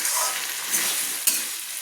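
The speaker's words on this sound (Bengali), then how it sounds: "সবজিগুলোর সঙ্গে আমি সেদ্ধ করা সোনা মুগ ডালটাকে মিক্স করে নিচ্ছি" Boiled moong dal being stirred into vegetables in a hot pan, giving a steady hiss and sizzle with soft scraping of the spoon and a couple of brief clinks, no talking.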